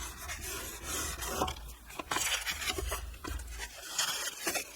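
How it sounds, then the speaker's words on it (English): Paper rubbed firmly down onto a file folder being made into a folio journal, a close, dry rasping and scraping that comes in repeated strokes with brief pauses, alone without talk. "matching it up to the bottom and right on top of the previous one, and then burnish it down"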